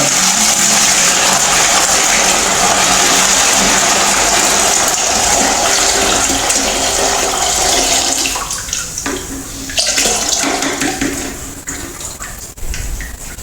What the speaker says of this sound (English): Sieve out the water.